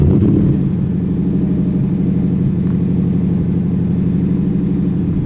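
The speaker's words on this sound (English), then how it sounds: "I'm gonna thoroughly enjoy my time with this just blisteringly loud V8 behind me" A Ford Raptor R pickup's 700 hp V8 roars loudly and close by, holding a steady, heavy rumble after a brief initial surge, with no voices.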